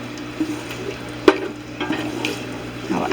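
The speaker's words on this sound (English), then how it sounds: "Let it cook a little more, let the garlic cook in with the onions." Garlic and onions cook together in a pan for an easy chicken curry, a low quiet sizzle broken by a few stirring scrapes and one sharper knock of the spoon, heard up close with no talking.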